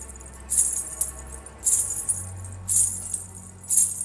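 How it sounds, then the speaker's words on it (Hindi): Small metal anklet bells jingle in four short bursts spaced about a second apart, bright and close, over a low rumbling background with no voices, set on a village path through fields at night. "अचानक उसे पीछे से पायल की आवाज सुनाई दी।"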